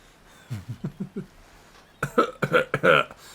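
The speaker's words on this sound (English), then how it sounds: "It knows I'm coughing" A player coughs several times in quick succession, close and clear, while streaming the Dead by Daylight dating sim Hooked On You, then gives a louder, harsher burst of coughs or throat-clearing.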